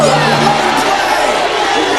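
Cartoon crowd from the Captain Planet animated series cheering and whooping, a loud sustained roar of many voices with mixed speech babble running throughout.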